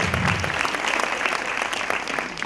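A crowd applauds steadily at a jury-judged film awards ceremony in a hotel, a dense wash of clapping from many hands that carries on throughout without pause.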